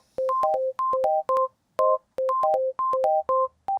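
A Deluge synth sequencer plays a looping generated note pattern: short, bright, evenly timed electronic tones in quick groups, clear and close with brief gaps between phrases and nothing else in the mix.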